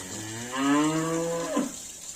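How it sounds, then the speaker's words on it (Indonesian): A dairy cow on a farm gives one long, low moo rising then falling, loud and close over a steady background hiss of running water. "di belakang saya itu ada peternakan sapi perah"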